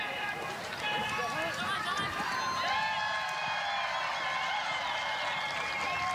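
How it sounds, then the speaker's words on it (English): A stadium crowd roars and cheers steadily throughout a Texas Tech versus Oregon State college soccer match at night, a loud, continuous wash of voices with whoops rising over it. "Crowd is into it tonight, and great to hear them."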